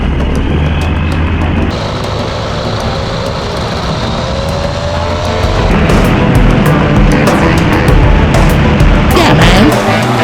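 An ultralight trike's engine roars through takeoff on Maui, a loud steady drone that swells and grows rougher partway through, with wind rushing over the microphone.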